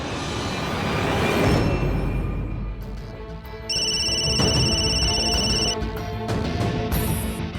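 A phone rings with a bright electronic tone that comes in bursts, loud and close, over a busy rumbling background with no talk.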